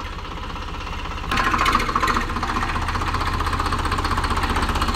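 A 2023 Eicher 551 tractor's diesel engine chugs loudly nearby with a rhythmic knock, revving up sharply partway through and then settling into a steady run.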